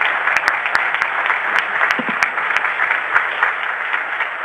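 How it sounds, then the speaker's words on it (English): Steady audience applause for Mario and the San Donato team at a medical workshop, a dense even patter of many hands with a few sharper claps standing out, sustained and fairly close throughout. "So I would like everybody to give a big hand of applause to Mario and all the San Donato team."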